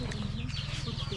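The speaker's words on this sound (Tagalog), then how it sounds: "Dami siyang manok mga idol," Chickens cluck close by in a steady rapid rhythm while a person talks over them.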